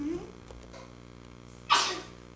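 A single sharp sneeze bursts out near the end, loud and close, after a stretch of quiet room tone with faint murmuring.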